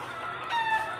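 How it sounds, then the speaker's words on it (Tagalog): Rooster crowing among a flock of raised chickens, local breed birds kept in pens; a thin, fairly quiet crow with faint clucking over steady background noise, no talk. "Kaya marami yung naalagaan kong manok mga boss."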